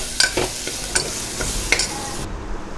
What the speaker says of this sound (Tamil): சேர்த்துட்டு அதையும் நல்லா கலந்து விட்டுருங்க.